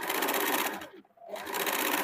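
An electric sewing machine stitches fabric for a kurti made from a saree, a fast close rattling hum that briefly stops mid-clip before resuming at the same pace.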